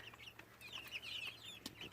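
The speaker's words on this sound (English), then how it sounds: "The Mystic Onyx chicken, I did purchase them because they are a very beautiful looking bird." A Mystic Onyx chicken, a black ornamental breed, clucks in a farmyard flock with soft repeated murmuring calls and a few sharper clucks, fairly faint with low background hum.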